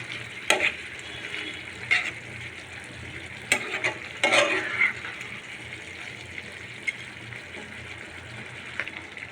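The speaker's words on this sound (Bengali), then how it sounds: "আমি টমেটোর সাথে আলুটা মিক্সড করে নিয়েছি, দেখতে অনেক সুন্দর লাগছে।" Potatoes and halved large shrimp in tomato curry are stirred in a pan, a soft steady sizzle with a few louder scraping bursts of the spoon, close and without voices.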